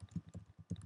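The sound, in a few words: typing on a computer keyboard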